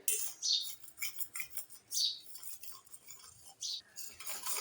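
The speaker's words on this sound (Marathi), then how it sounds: "मीडियम गॅसवर आंब्याचा गर आपण पूर्ण असा एकसारखा हलवत राहणार आहे" Mango pulp stirred steadily in a steel or nonstick kadhai over a medium gas flame while cooking down for mango barfi, giving faint, intermittent scraping and clinking of the spoon against the pan.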